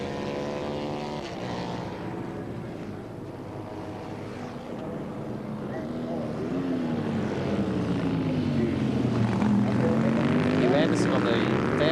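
A 1000cc Vincent Rapide racing motorcycle at a 1984 street race roars past, its engine note rising and then sweeping down as it passes close by, with a commentator speaking over it.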